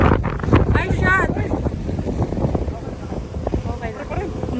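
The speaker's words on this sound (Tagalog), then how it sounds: "Lakas ng hangin." A strong crosswind sweeps across an open golf course, buffeting the microphone with a loud, gusty low roar that never lets up, while people talk underneath it.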